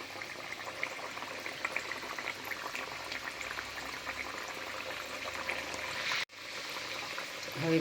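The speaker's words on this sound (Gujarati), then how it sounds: "હવે તેલ ગરમ થઈ ગયું છે। મીઠી મઠડી એડ કરીશું।" Sweet mathari made from wheat flour and semolina sizzle steadily in hot oil, a continuous close bubbling hiss that briefly cuts out near the end and then resumes.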